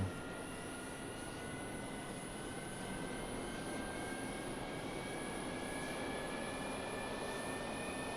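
A fighter jet engine in a flight simulator game throttled up to 100 percent gives a steady, faint roar with thin high whining tones that rise slowly, heard alone without talk.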